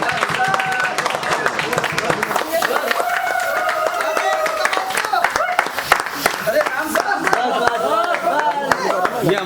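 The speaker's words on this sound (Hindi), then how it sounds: "वाह वाह, ताली दो, ताली गिराओ," Audience applause and clapping for the day's winner at a free mobile repair training session, steady dense claps throughout with people talking and cheering over them.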